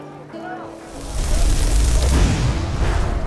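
A fireball spell cast in Enderal, a Skyrim SE game mod, giving a swelling whooshing roar and a deep rumbling burst that sustains for a couple of seconds, following a brief voice.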